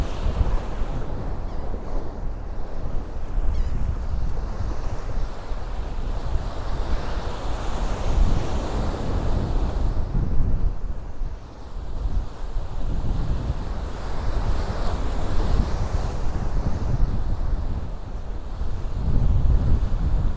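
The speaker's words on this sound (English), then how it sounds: "See how rough this the surf is over here" Rough ocean surf breaks along a foggy Bay Ridge, Brooklyn shore, a continuous loud roar of waves mixed with heavy wind buffeting the microphone, with no talking.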